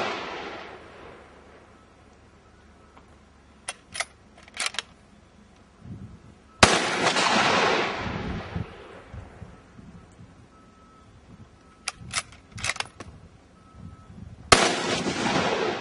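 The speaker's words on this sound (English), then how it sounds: "Remington Model 700. Otherwise known as the M40 sniper weapon system with an integral suppressor in the barrel." A suppressed Remington Model 700 (M40) sniper rifle in .308 fires at an outdoor weapons demonstration, three loud sharp reports with long fading echoes, and fainter distant pops between them.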